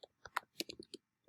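Keystrokes on a computer keyboard while entering values into a spreadsheet, a short burst of about eight quick, fairly close clicks in an uneven rhythm, then a lone final tap after a pause.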